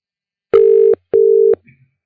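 Two steady telephone tones, each lasting about half a second with a short gap between them, like a ringback signal on a call line. A faint click follows, with no talk.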